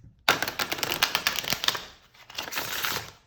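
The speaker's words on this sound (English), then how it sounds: "let's see if I can riffle shuffle on camera, because sometimes the cards just want to go all over the place" Riffle shuffle of a new Midnight City tarot deck: a sudden rapid flurry of card edges flicking together close to the microphone, a brief pause, then a second softer run of riffling.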